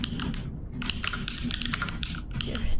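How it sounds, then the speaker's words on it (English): A mechanical keyboard fitted with Holy Trash Panda switches clacks in a rapid, steady stream of close, loud, deep-sounding keystrokes, with faint voices in the background. "Wow, that keyboard."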